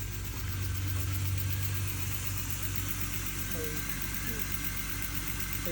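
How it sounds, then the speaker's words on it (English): A BMW E36 Alpina B3 engine idles just after its first start on old fuel with no coolant, giving a continuous low, slightly uneven rumble. Voices can be heard faintly over the steady engine drone. "Engine! Engine."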